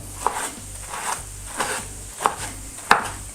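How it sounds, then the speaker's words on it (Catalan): Knife chopping drained spinach on a board, five distinct cuts spaced unevenly about half a second apart, close and crisp with no talking. "I els espinacs, que ja els tenim força escorreguts, els tallem una miqueta"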